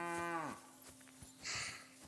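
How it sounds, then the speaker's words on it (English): Cows mooing in the video game Kingdom Come Deliverance II: one long, clear moo that drops in pitch, followed by quieter farm sounds and a softer second low call. "Moo cows."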